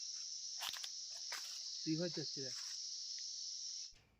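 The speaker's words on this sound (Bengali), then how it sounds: "ঝিঝি পোকার ডাক আছে" Crickets keep up a loud, continuous high-pitched trill beside a river in Sillery Gaon, with footsteps, a brief voice speaking and rustling beneath, before the chirping cuts off at the end.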